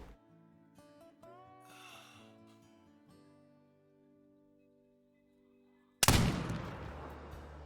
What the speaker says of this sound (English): this time we need to make this shot count